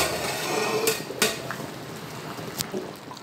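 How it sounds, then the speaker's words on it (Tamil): A metal lid goes onto a cooking pot with a few sharp clanks and clinks, close and distinct over a faint background hiss, with no voices. "இப்போ அப்படியே மூடி போட்டுருங்க."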